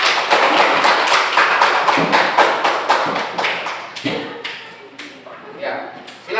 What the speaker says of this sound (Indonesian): kita berikan tepuk tangan dulu untuk kelompok 3